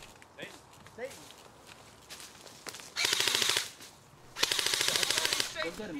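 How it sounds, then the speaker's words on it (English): Airsoft guns fire in a forest during a game, two loud rapid bursts of automatic shots close by, after quieter footsteps and rustling in the undergrowth. "A few more shots rung out by Warheart just in case."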